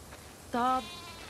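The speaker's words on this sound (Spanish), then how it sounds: "Definitivamente tenemos demasiadas ovejas." A single sheep bleat from the video game The Last of Us Part II, one short wavering cry, clear and moderately close over a quiet background.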